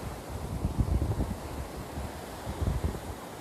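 Steady wind buffeting a microphone on a Florida beach, a dense low rumble with gusty swells, loud and close throughout, no voices.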